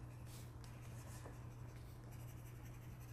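Colored pencil in Tuscan Red scratching steadily across paper, layering dark tone into blended wax; a soft continuous scribbling texture, close and quiet, with a low steady hum underneath.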